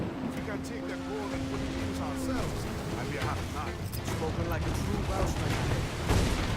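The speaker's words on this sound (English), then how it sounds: "So let's open up with the mortar." Ship mortar fire from Assassin's Creed IV: Black Flag booms in heavy, rumbling bursts over a steady game soundscape, with an early tonal hum fading out partway through.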